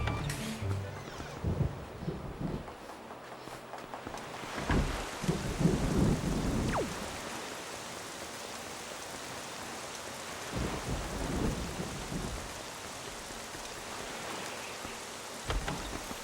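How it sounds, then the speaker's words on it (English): A raging evening thunderstorm in The Legend of Zelda: The Wind Waker: heavy rain hisses steadily while thunder rumbles and cracks several times, with the loudest crash near the start. "there's a terrible storm raging this evening"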